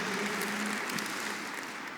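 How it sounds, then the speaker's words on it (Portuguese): Sustained, dense applause from a conference audience at the Eleve Conference, a church gathering, rolling steadily and fairly evenly for the whole stretch with no voices over it. "Eu queria que você desse um forte aplauso para eles"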